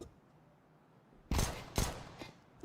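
A P250 pistol fires in a Counter-Strike match, with two or three sharp, distant shots spaced about half a second apart over a quiet background.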